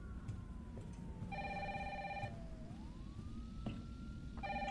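An old-style telephone rings in two bursts of rapid electronic trills in Resident Evil 3 Remake, heard faintly over a low background hum with a gliding tone between rings and no talking.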